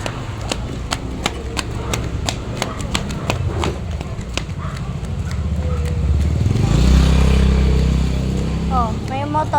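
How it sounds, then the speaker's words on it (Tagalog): A motorcycle passes on a street, swelling from a low rumble into a loud close pass near the end, with children's voices and sharp taps scattered through the clip. "Oh, may motor."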